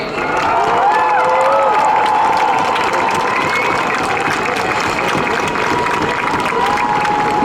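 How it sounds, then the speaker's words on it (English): An outdoor crowd at a rally for Ukraine, marking four years since Russia's full-scale invasion, cheers and applauds steadily and loudly throughout, with whoops and shouts rising over dense clapping. "Let's give a big shout out and a big cheer for our Persian community joining us today"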